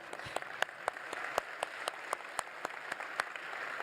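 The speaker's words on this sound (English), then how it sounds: "that deserves a clap" A small group claps briefly, a light patter of applause at moderate distance, fairly quiet and steady for a few seconds.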